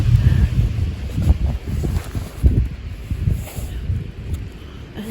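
Gusty wind sweeps through a snowstorm over deep snow, buffeting the microphone in uneven, rushing waves that stay loud and close from start to finish.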